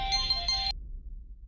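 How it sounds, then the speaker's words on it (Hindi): A phone ringtone for an incoming call sounds in a bright electronic melody of repeated tones for about half a second before cutting off, leaving quiet room hum. "हाँ साक्षी, मैंने तुझे एक खुशखबरी सुनाने के लिए फोन किया है।"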